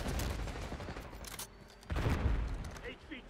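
Bursts of video game gunfire from Black Ops 6 fill the moment, a dense fusillade of rapid shots that drops away briefly before booming back in, with a voice talking over the action.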